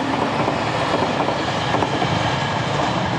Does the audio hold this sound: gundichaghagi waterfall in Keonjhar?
no